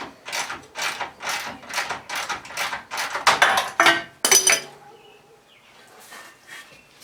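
A ratchet wrench works on the rear axle of a 1970 Cutlass Supreme in a garage, giving about a dozen close, rhythmic ratcheting clicks that speed up, then stop into near silence.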